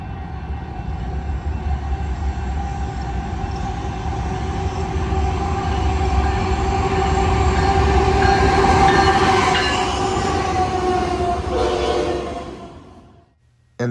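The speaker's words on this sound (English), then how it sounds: "Later, we were in Geneva, Illinois to see this westbound intermodal." A long westbound intermodal freight train in Geneva, Illinois rolls by with a steady rumble and clatter of wheels, growing louder mid-way, then fading quickly at the end.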